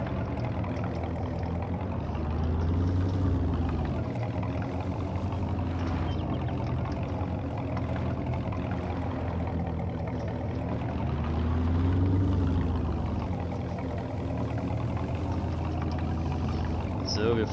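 A Lada Niva off-road vehicle driving across a field in Farming Simulator 22: a steady engine drone that swells and eases as the car moves, with someone talking over it throughout.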